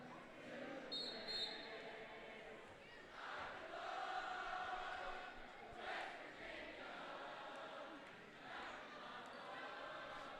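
A student cheering section at a high school boys basketball game, Kahok versus East St. Louis, sings a song as a loud, steady crowd chorus that swells and dips, with the whole gym filling the sound.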